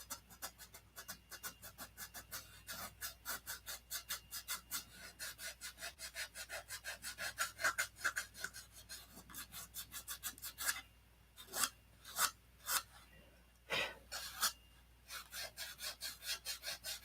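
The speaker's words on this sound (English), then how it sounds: "I'm going to sand a little bit out of this." Sandpaper works the wood of a model plane's elevator hinge with quick, regular back-and-forth rasping strokes, faint and close, with a brief pause and a few slower strokes near the end and no voices.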